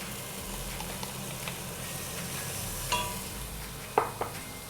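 Mushrooms frying in a pot for a barley stew give a steady low sizzle, with a few sharp scraping stirs near the end, close and fairly quiet.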